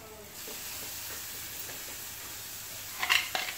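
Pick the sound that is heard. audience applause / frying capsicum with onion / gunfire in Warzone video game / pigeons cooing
frying capsicum with onion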